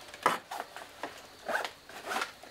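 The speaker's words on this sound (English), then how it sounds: "All the zippers seem to work." Zippers on a backpack are opened and closed in several quick rasping pulls, near and moderately loud, with no talking.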